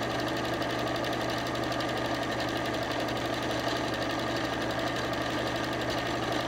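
A sewing machine stitches steadily around a fabric thread catcher bag, an even, rapid mechanical whirring and ticking held at a constant pace, close and fairly quiet, with no voices.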